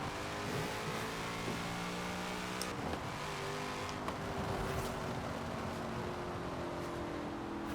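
A Mosler supercar's engine drones and revs steadily in the video game Forza Horizon 4, a sustained loud engine tone with shifting pitch as the car accelerates and corners, with no talking.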